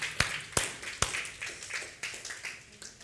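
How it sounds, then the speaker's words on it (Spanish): Church congregation clapping for the Lord, a few sharp loud claps up front followed by a quieter rhythmic run of clapping hands, moderately near and continuing steadily without talk. "Alguien dele un aplauso al Señor bien fuerte"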